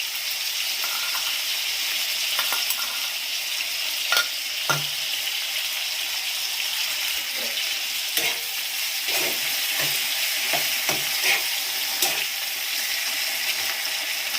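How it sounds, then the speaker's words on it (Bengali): Ginger and fennel paste fries in a pan with a steady close sizzle, broken by repeated light scrapes and taps of a stirring spoon. "আর আদা আর মৌরি বাটাটা এর সাথে দিয়ে আমি কষিয়ে নিচ্ছি।"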